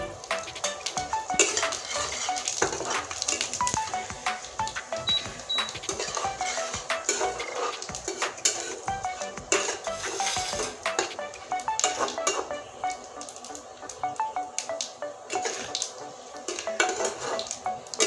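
Cumin and dried red chillies frying in hot oil, a continuous light sizzle broken by busy metallic scraping and clinking of a spatula against the pan, close and steady with no talk.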